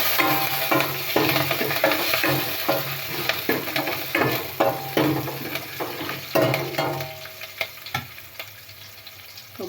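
Chopped onion pieces and a sprig of curry leaves frying in a pan for a radish and lentil curry, a steady close sizzle with repeated scraping stirs, no talking.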